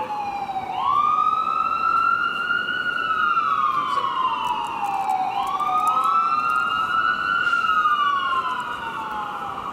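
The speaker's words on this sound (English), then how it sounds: "Let this ambulance pass." A wailing siren sweeps up and down in long rising and falling cycles, loud and close, with steady traffic rumble beneath it.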